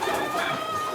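Racing pigeons coo in a wire-fronted loft with wire floors, a steady dense murmur of many birds that fills the space continuously.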